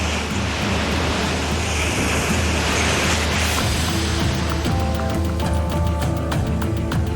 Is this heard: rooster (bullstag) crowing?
no